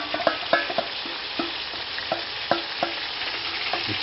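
Marinated chicken masala being stirred in a hot pan for biryani, a continuous sizzle broken by repeated sharp spoon scrapes and clinks against the pan, close and alone.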